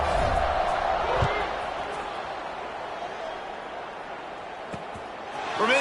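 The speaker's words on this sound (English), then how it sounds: "this crowd is buzzing after that last score" Stadium crowd at a Premier Athletic Conference football game, Brooklyn State visiting Winston, buzzing steadily after a scoring drive as the kickoff nears; a broad, even roar of many voices fills the background with a few sharper thumps.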